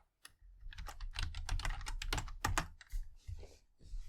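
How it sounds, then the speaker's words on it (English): A noisy computer keyboard clatters with quick, close, uneven keystrokes during a short typing burst, with no talking. "Sorry for my noisy keyboard"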